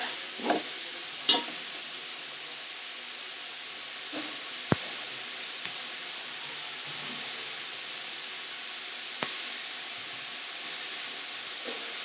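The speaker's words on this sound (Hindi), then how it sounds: "अब हम इसको हल्का सा फ्राई करेंगे 2-3 मिनट के लिए" Cabbage frying in a pan as macaroni is cooked at home, a soft steady sizzle and hiss running throughout, with a few louder stirring clatters near the start and occasional sharp utensil ticks, no voices.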